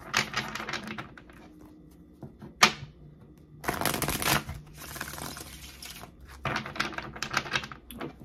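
A deck of tarot cards is shuffled close by, with crisp riffling bursts and soft slides that come in several separate runs with brief pauses between them.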